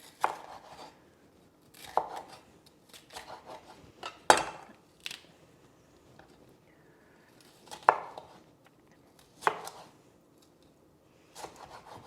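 A knife chops bell pepper on a cutting board in sharp, separate thuds spaced a second or two apart, close and fairly quiet, with soft rubbing and scraping sounds between cuts.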